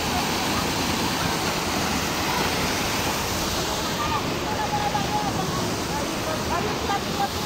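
Paeng Falls waterfall pours in a constant broadband rush, loud and near, with people talking faintly over the roar.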